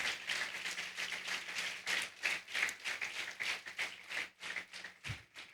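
A church congregation clapping their hands in thanks, a soft, dense patter of many claps blending into faint, distant applause that continues without a break.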